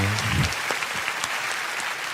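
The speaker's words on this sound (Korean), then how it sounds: "박수 부탁합니다" A studio audience at a talk show bursts into brief applause, dense clapping that follows a voice at the very start and continues steadily to the end.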